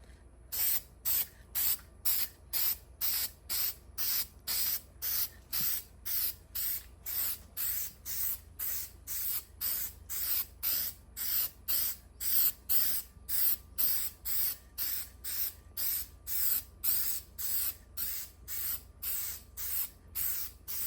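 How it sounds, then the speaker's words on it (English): Rhythmic short hissing bursts from a Rust-Oleum hammered metal spray paint can, dozens of evenly spaced puffs repeating close up for the whole stretch, without any talk. "everywhere that we're going to put our hammered metal Rust-Oleum spray paint"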